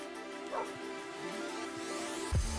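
Dogs in a Minecraft PS4 survival game give a few short, mid-distance barks and yips over steady tonal game background sound.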